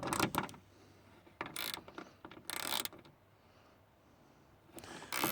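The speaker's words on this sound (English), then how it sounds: "These 3 bolts, that's what's holding your mirror in. That's your 3/8 inch right here." A 3/8 inch ratchet works the bolts holding the side mirror of a 2008 Nissan Pathfinder, with several bursts of close, loud clicking and ratcheting separated by quieter pauses.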